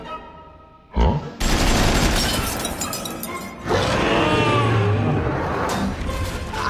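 Cartoon machine guns fire from Astro Boy's rear end in loud, rapid sustained bursts, with a sharp crack at the start and a brief pause before a second long volley.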